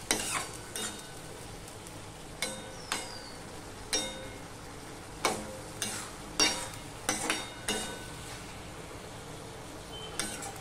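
Okra and potatoes frying in a pan after a little water is added, a steady sizzle under repeated scraping stirs with a utensil, close and clear, strokes coming every second or so.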